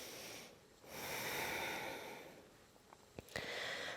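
Slow, deep breaths during a yoga flow, one long airy inhale and exhale close up and quiet, followed by a few short sniffs and snorts.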